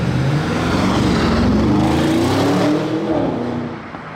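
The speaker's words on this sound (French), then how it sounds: "Oh les petits retours d'échappement là" A sports car rushing past on a street in Monaco, its loud engine note rising then falling away, with exhaust pops crackling as it passes close by.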